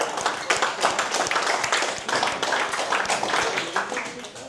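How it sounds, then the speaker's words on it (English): Audience clapping fills a conference room in Sydney at a leadership event for franchisees, dense and steady with scattered sharp claps and a few voices underneath throughout. "Let's give a big clap for that."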